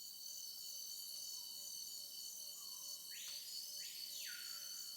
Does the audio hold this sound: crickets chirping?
yes